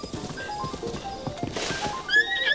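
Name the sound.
horse neighing and galloping in video game Zelda: Breath of the Wild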